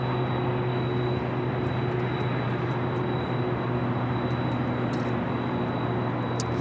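A China Eastern Boeing 777-300ER airliner taxiing at Los Angeles airport toward a north-side takeoff, giving a steady, continuous jet engine drone with a sustained high whine, moderately distant and unchanging throughout, with no talk.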